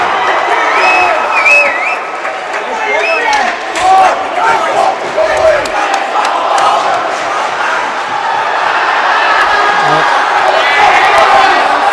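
Crowd at a high school boys hockey playoff game cheers loudly after a goal, a dense roar with whoops and shouts that stays sustained throughout, with an announcer speaking over it.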